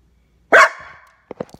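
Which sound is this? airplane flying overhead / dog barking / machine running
dog barking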